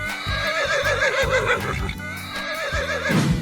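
A horse in a 3D animal slide video game neighs in several rising and falling whinnies, loud and close, over steady game music and thumping beats.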